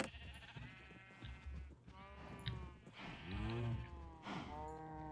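A cow mooing in a video game, several drawn-out lowing calls in a row, moderately loud and close, with no talking over them.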